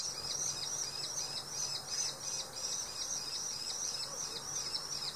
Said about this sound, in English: That's a very nervous bird.